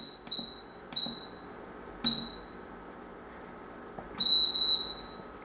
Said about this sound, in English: Once you hear the beeping, that means that you've selected all the colors that you want in that order.